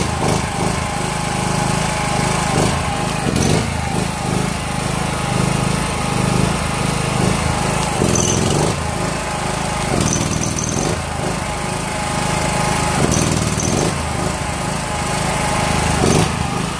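A used petrol generator engine runs steadily and loudly at a workshop in Chiang Mai, a constant buzzing drone with a few light knocks and clatters over it and no talk.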